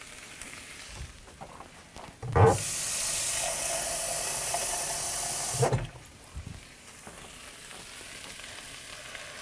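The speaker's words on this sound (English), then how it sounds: "I'm gonna grab some more water because I wanna make sure that the water is in there to help the kale wilt" Water poured into a hot pan of potatoes and kale sets off a loud, steady sizzle lasting a few seconds, bracketed by quieter stirring and kitchen clatter.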